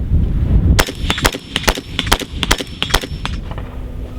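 Pistol shots crack out in a quick series of about ten sharp, loud reports at an uneven pace, fired during trigger reset practice with no talking.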